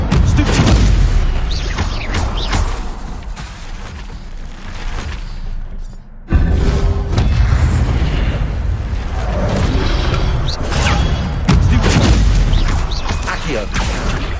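Spell effects from Hogwarts Legacy burst and boom one after another, loud blasts and crackles with a sudden cut midway, while a voice calls out incantations over them.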